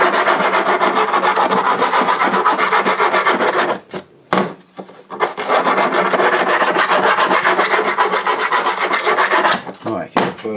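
Filing burrs off the cut end of a metal piece in a home garage, a loud, rapid, rhythmic rasping of hand strokes that runs steadily, pauses briefly near the middle, then resumes.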